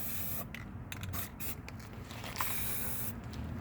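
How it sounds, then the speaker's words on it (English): Rust-Oleum Rust Reformer sprayed from an aerosol can into a rusted truck cab corner, a steady close hiss running almost continuously with brief breaks between bursts. "I'm gonna get my new favorite product, Rust-Oleum Rust Reformer, and we're gonna spray it all up in there."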